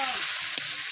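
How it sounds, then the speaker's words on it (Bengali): Potatoes frying in oil in a kadai are stirred, giving a steady, close sizzle with a faint scrape of the spoon through a brief moment. "আমি আলুটা একটু নাড়াচাড়া করে নিই।"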